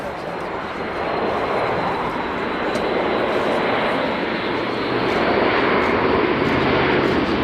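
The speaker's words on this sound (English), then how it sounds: "The A400M is an incredibly capable aircraft." Airbus A400M Atlas military transport of the German Air Force flying at an air show with its undercarriage down, a loud, continuous broadband propeller-engine roar that builds slightly toward the end, with a commentator talking over it.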